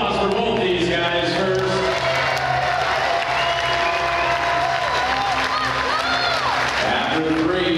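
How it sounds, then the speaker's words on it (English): Loud, dense applause and cheering from an MMA crowd after a fight ends in a draw, a steady wash of clapping with whoops and shouts throughout. "Big round of applause for both these guys."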